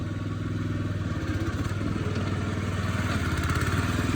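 A Hecht 2650 motorized dumper runs steadily close by, its small engine chugging at a low, even pulse with mechanical clatter throughout, no voices over it.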